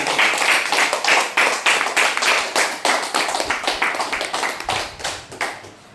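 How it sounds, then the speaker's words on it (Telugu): An audience applauds to greet a woman on her birthday, many hands clapping in a dense, steady burst that holds strong for about five seconds before tapering off at the end. "మనం చప్పట్ల ద్వారా ఒకసారి ఆవిడకి శుభాకాంక్షలు తెలియజేస్తాం."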